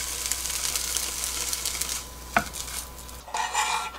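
Egg roll omelette cooking over very low heat in a pan as it is rolled, gentle hiss of frying with a light utensil tap against the pan and brief scraping.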